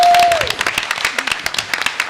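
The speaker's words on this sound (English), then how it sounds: "So let's give our students a round of applause." A short burst of steady applause fills a school board of education meeting, many hands clapping together at close range with a brief tone audible at the start.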